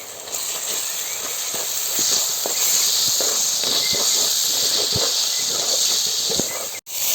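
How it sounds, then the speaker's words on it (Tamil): Continuous close sizzle of onions and masala sautéing in hot oil for a chicken curry, punctuated by soft irregular spatula scrapes and taps, with a brief dropout near the end and no talk. "நல்லா எண்ணெயில் வாசனை வர வரைக்கும் நல்லா வதக்கி விட்டுடலாம்"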